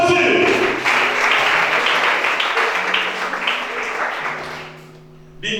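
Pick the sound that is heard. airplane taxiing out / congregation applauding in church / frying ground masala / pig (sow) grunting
congregation applauding in church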